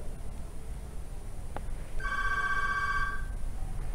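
A telephone rings once with a bright electronic warbling tone lasting about a second, heard clearly over a steady background hiss after a brief click, with no speech.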